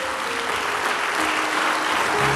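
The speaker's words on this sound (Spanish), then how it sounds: "Le da usted un aplauso a Jesús." A church congregation applauding during a Spanish-language Christian service, a dense, loud, sustained wash of clapping from many hands that stays even throughout, with no speech over it.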